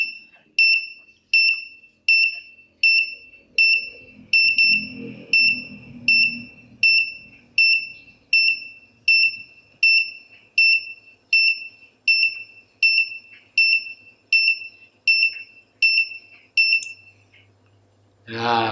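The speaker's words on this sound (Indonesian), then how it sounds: "Jadi ada suara begini untuk mengisi pewangi ya." A washing machine with a large dynamo motor sounds its fabric-softener fill signal: a loud, high electronic beep repeating steadily about twenty times, then a brief low thump at the end.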